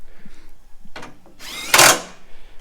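Bolts being tightened on the crash bar of a Ford Fiesta ST during a radiator install, heard as a brief clunk then a short burst of ratcheting tool noise, close and loud, in a garage.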